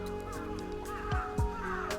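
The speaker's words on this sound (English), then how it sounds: "besides the crows kind of ruining it for me with their caw, caw, caw" Crows cawing near a bridge on a walk, a few short harsh calls standing out over steady outdoor ambience and traffic-like hum, fairly close, no talking.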